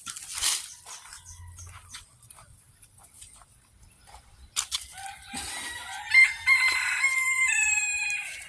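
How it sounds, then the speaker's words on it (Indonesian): A red junglefowl crows in the yard of a historic family house, one drawn-out call rising clearly over quiet surroundings, with high bird chatter around it. "itu ada ayam alas"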